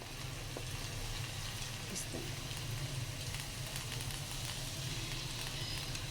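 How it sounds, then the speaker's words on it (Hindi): Spring rolls filled with chicken and spaghetti frying in oil in a pan over a low flame, giving a steady, continuous sizzle with faint crackles throughout, close and moderately loud with no talking. "अब इनको हम फ्राई कर लेते हैं।"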